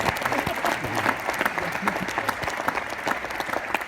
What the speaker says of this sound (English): That's very nice of you to clap.